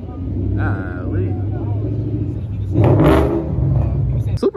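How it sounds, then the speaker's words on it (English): Supercars pulling up at a crowded bike and car meet, engines droning loudly and swelling into a revving roar, with people talking nearby over the noise. "we got some supers pulling up, bro"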